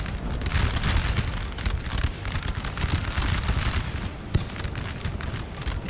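Musket volleys from line infantry in Napoleon Total War, aimed at an artillery crew: a continuous rumbling roar of massed firing and distant booms, with crackling shots layered over a thick battlefield din.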